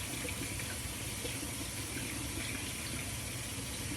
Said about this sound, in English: I'm rinsing one hand off while I'm trying to work this dough in this hand.